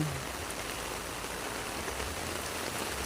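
Steady rain falling on a vegetable garden with string beans and calamansi plants, a constant dense hiss of drops at moderate level with no breaks, with no voices present.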